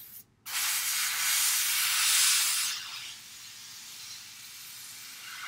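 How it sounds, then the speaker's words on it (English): Noisy air compressor running to feed an airbrush for weathering a hobby model, a steady broadband hiss that cuts in, holds loud for a few seconds, then settles to a softer sustained rush. "I really need to buy a more silent compressor."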